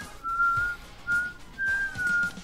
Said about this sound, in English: I'm whistling pretty loud.